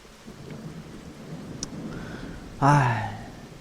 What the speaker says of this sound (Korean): 지금 이 빗소리처럼 말이죠